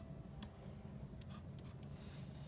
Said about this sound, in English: draw a line like so